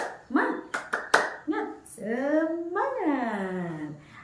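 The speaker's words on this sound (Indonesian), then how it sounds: "Tepuk semangat." A classroom group claps out a quick rhythmic spirit clap, about half a dozen sharp hand claps in a row, followed by voices calling out together in a drawn-out, sing-song chant.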